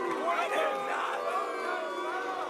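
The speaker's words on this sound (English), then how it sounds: "You can hear the reaction of the crowd" Arena crowd at a World Armwrestling League 2015 heavyweight prelim match, a loud roaring, shouting reaction after a foul, steady and close with mixed voices throughout.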